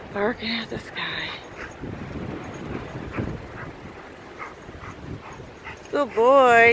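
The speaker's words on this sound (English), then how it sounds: "Barking at the sky." A dog barks a few times up close, with yips and whimpers, amid wind noise and a person's voice, ending in a longer whining bark.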